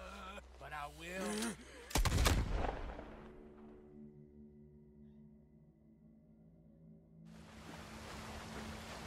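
Gunfire in Red Dead Redemption 2: a single loud shot crashes near the start, then fades into a low ringing tone, with music-like tones and voices before it and a rising wash of noise at the end.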